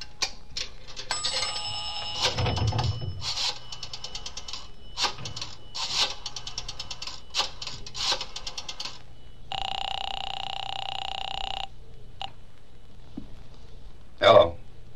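Telephone dialing and ringing in a vintage radio drama: a rapid series of rotary dial clicks and clatter, then a sustained electronic ring tone lasting about two seconds, followed by a sharp brief clunk, with no talking over it.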